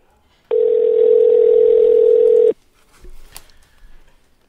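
A steady telephone dial tone sounds loud and alone for about two seconds while a guest is being called, then cuts off abruptly, followed by faint rustling and a soft click.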